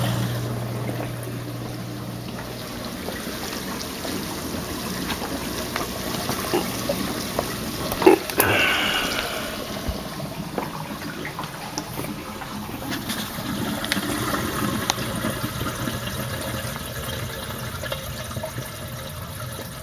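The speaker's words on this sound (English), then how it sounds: "Once the water quits overflowing into the sump, it'll show me where the water level will be during a power outage." Water from a marine aquarium keeps overflowing into the sump below after the return pump is unplugged, a steady close trickling wash that slowly tapers with a brief sharp knock midway.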